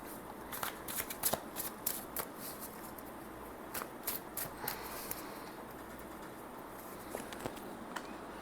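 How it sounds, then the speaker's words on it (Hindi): Tarot cards are shuffled by hand in a series of close, crisp riffles and soft slaps, with a brief pause in the middle before the patter resumes. "So let me shuffle a cards for you."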